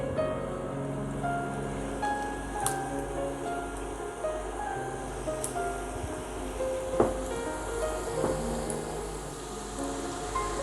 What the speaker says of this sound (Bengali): আর চুলার আঁচ মিডিয়াম রেখে মোনাক্কাগুলো ভেজে নিতে হবে।